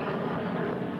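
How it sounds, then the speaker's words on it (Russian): A helicopter flies over a Russian village near Arkhangelsk, its steady broadband rotor and engine drone holding at constant loudness throughout with no voices. "Там вот вертолет."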